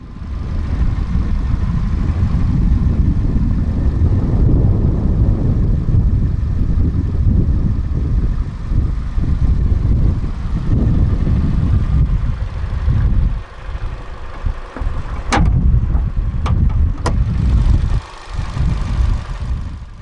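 A 2015 Fiat 500X with a 1.4-litre MultiAir II turbocharged petrol engine idles with a loud, steady low rumble, alone and close, and a few brief clicks appear near the end.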